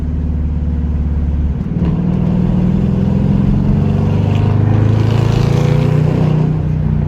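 A loud, deep straight-piped 5.7-litre V8 in a 2021 Dodge Durango R/T rumbles steadily in traffic and then revs harder, its exhaust note droning close and continuous throughout.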